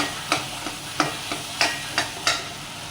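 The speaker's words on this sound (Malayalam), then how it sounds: "തക്കാളി ഒന്ന് ചെറുതായിട്ട് ഉടച്ച് കൊടുക്കാം" A spoon presses cooked tomato against a pan holding cassava, making about six sharp, evenly spaced tapping squelches over a faint sizzle with no talk.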